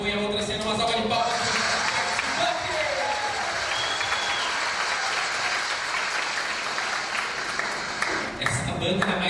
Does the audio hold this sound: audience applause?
yes